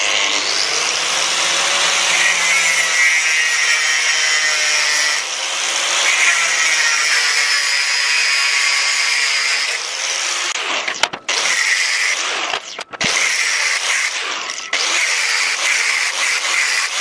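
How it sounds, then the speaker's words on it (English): Power tool cutting steel for planar tweeter coils in a DIY workshop, a loud sustained whining drone with shifting pitch, broken near the end by short sharp interruptions and clattering bursts. "So you can hear the sound of cutting coils in the background while I cut all the steel."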